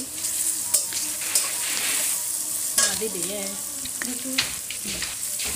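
Chopped onion and whole cumin seeds frying in oil for a minced-meat and potato tara pitha, a strong continuous sizzle with scraping stirs and a few sharp utensil knocks.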